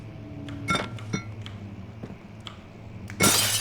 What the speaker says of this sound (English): So we have to, like, break the glass, I think.